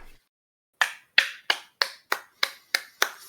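Eight sharp hand claps at a steady, moderate pace, close and crisp, after a brief quiet start.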